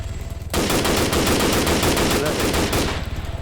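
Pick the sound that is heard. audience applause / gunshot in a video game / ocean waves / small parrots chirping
gunshot in a video game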